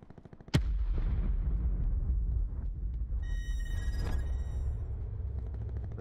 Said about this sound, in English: those snipe shots sound loud as hell